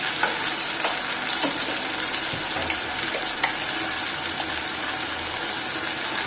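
Onion, bay leaf and dried chili fry in oil in a pan, producing a loud, continuous sizzling hiss with scattered crackles and small pops, close up and without voices.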